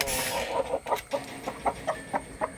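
Native hens clucking inside a home chicken coop, a run of short, evenly spaced clucks close by over a faint background hiss, with no talk.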